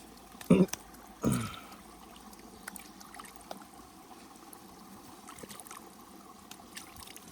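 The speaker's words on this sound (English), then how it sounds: "Watch him splash him with water" Water splashes twice in quick bursts near a forest stream where children play, with faint rustling and quiet pauses between.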